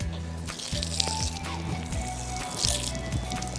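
Running water splashes and drips continuously, a busy wet churning with louder sloshes now and then, close and fairly loud.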